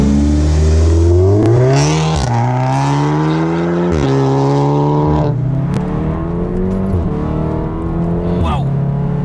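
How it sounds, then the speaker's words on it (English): A modified 2017 VW Golf R accelerates hard in manual mode, engine revving loudly and climbing through gears with brief drops at each shift, close up inside the car while people talk over it. "We're gonna drive in manual mode so that we can shift for ourselves."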